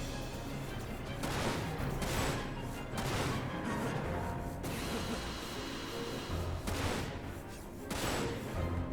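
Gunfire in the video game Dirge of Cerberus rattles in loud, sustained bursts with mechanical clanks. Dense volleys surge and ease throughout with no break.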